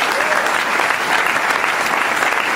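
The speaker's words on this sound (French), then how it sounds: "Est-ce que nous pouvons acclamer le Seigneur?" A church congregation claps and cheers to acclaim the Lord, a dense, loud, steady round of applause from a large group.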